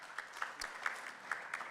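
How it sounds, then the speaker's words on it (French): A small audience at an industry panel discussion in Tunisia gives faint, sparse claps, a handful of distinct hand claps spaced irregularly over quiet room tone. "On l'applaudit si vous permettez"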